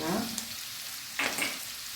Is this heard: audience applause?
no